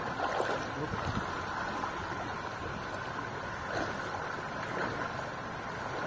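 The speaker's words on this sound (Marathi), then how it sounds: "पाण्याचा लोट" Flowing water rushes continuously through flooded rice fields, a steady broadband wash with faint splashes and a distant voice.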